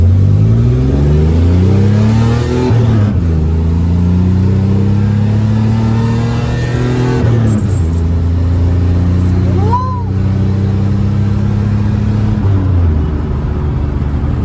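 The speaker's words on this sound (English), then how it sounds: "There's a car coming." A car engine hums steadily nearby, rising and shifting in pitch as it drives past, with loud continuous engine noise throughout.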